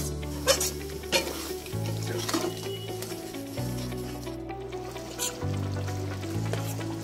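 A mushroom curry is stirred in a frying pan, with a soft, steady sizzle and occasional scraping of the spoon, heard alone over a low, droning background music loop.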